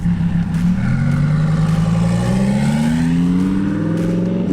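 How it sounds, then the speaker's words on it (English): A Lamborghini V10 engine revs and pulls away nearby, a loud steady drone with its pitch climbing smoothly as it accelerates, alone without talk. "those V10s just make such a notable sound"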